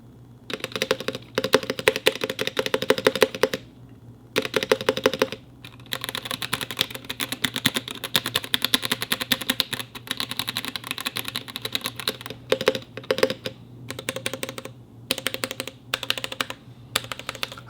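Rapid clacky typing on a Womier K87 mechanical keyboard with smooth keycaps, close and crisp, in bursts separated by a few brief pauses.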